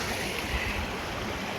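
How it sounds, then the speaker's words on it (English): A mountain stream runs along a hiking route near Skiddaw in Cumbria, giving a steady, close rushing wash of water with a low rumble and no breaks. "Oh, lovely running water."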